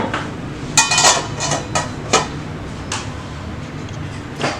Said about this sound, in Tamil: இது வந்து மூடி போட்டு நம்ம வேக வச்சிடலாம்.